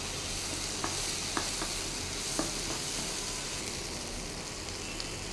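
Ingredients for drumstick sambar sauté in a pan, giving a faint, even sizzle with a few light taps from stirring. No one speaks.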